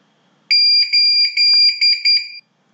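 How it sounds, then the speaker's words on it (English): A Hikvision CCTV DVR beeps several times in quick succession while formatting its hard disk, a shrill electronic tone in short bursts with one longer stretch, close and loud. "Your DVR will beep as you're actually doing it"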